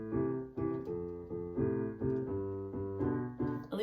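Piano plays the harmony part of a song: a repeating rhythmic pattern of chords, about eight even strikes, clear and close with no voices.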